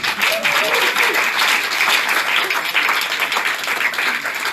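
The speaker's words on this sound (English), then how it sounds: "you're applauding yourself, you're applauding everybody in the room." An audience at an international collaboration symposium panel applauds together in the room, a steady dense wash of clapping that runs for the whole stretch, with some voices mixed in beneath it.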